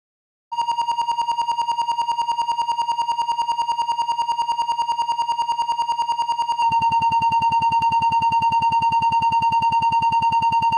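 A phone plays a steady electronic tone while being moved, giving a continuous pulsing beep with a high, bright pitch; partway through, the tone's quality shifts and grows louder.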